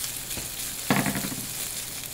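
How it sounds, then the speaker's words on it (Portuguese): Fifty grams of ham fries in a spoonful of butter in a pan, a steady close sizzle with a brighter crackling surge as the pieces are stirred about midway. "Agora eu vou fritar aqui, ó, 50 gramas de presunto."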